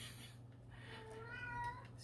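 A pet cat meows nearby, with a soft drawn-out meow over a low steady background hum.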